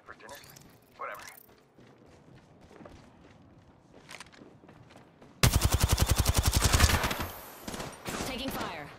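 Automatic gunfire in the Apex Legends battle royale video game bursts in loudly halfway through as a rapid rattling volley, following quieter in-game voice chatter and footstep sounds.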